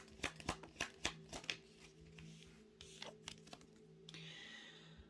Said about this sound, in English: let's get another shuffle from this deck